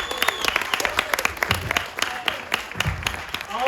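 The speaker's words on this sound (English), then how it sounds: "put your hands together" A comedy club audience breaks into loud, dense applause for a stand-up comedian taking the stage, with sharp overlapping claps and a few cheers sustained throughout.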